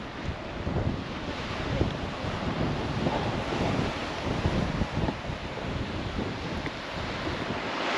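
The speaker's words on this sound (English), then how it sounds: "That wind is just killing it." Strong wind gusts buffet the microphone at Misery Beach on the Albany coast in Western Australia, a loud continuous roar mixed with crashing surf and no voices.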